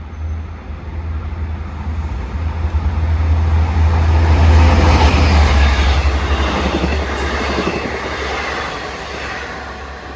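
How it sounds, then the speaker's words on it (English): A Long Island Rail Road diesel train of four cars, eastbound from Long Island City to Port Jefferson, passing close on a damp day, a loud rumbling engine roar and clattering wheels that swell to a peak and then ease off. "East now at 6:22 is train 664, arrived from Long Island City to Port Jefferson."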